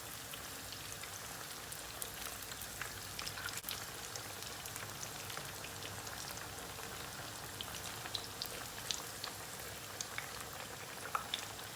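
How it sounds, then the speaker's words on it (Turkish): Chicken thighs sizzle steadily in a hot pan, a dense, even crackle with scattered louder pops across the whole stretch, fairly faint and with no talking. "Ondan sonra çevre çevre kızartırız."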